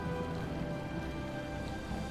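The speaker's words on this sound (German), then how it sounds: "Und es regnet schon wieder." Steady rain in the video game Minecraft, a soft, even hiss of falling drops that stays quiet and unbroken throughout, with no talking.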